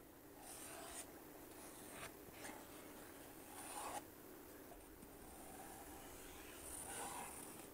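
A pencil sketches freehand designs onto wood, giving soft close scratching and rubbing strokes in an uneven rhythm, fairly quiet, with no talking.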